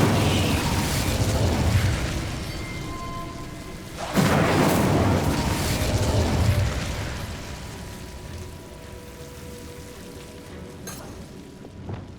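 A fiery Incendio spell blast erupts in Hogwarts Legacy, a loud whooshing burst near the middle that rolls into a crackling, rumbling tail before settling into quieter game ambience.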